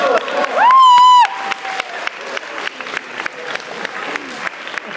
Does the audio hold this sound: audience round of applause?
yes